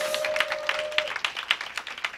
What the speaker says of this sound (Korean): 힘찬 박수 한번